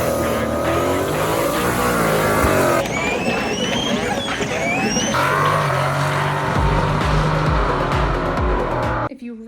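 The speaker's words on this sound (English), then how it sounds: "We are going to start off with a little cold start video." A GMC Syclone cold-starting, its engine cranking and catching into a loud, rough idle with exhaust rumble and revs, continuing close and steady before cutting off near the end.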